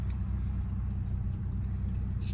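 A car engine idles steadily at close range, a low continuous rumble with no speech over it.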